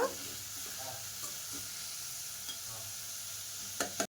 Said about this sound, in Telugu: చూడండి మనకి ఆనియన్స్ అయితే చాలా దూరగా వేగిపోయాయండి.